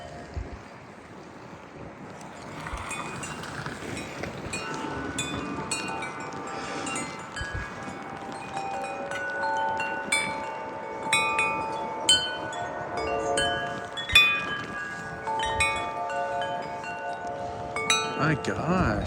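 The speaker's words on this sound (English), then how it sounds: "Today's a windy day." Strong gusty wind blowing in a front yard on a windy day, a steady rushing roar buffeting the microphone with scattered rattles and knocks.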